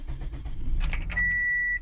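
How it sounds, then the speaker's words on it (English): A Toyota Corolla is started with a newly programmed key: a brief clunk and whirring crank, then a steady engine idle with a sustained electronic tone. "it starts the car, right?"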